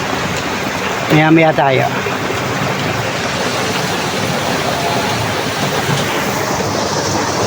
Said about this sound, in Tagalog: Umulan na naman.